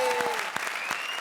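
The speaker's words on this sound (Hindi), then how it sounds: "ताली बजाओ comedy circus के लिए" Studio audience at a comedy show claps in a short, lively burst of applause, bright and fairly close, with a few distinct sharp claps standing out.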